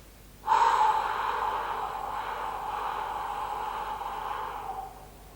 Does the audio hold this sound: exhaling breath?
yes